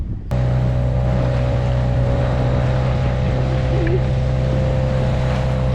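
A small, heavily loaded dinghy motors across choppy, whitecapped water in a westerly wind, its outboard engine droning steadily and loudly from start to finish under wind and water noise.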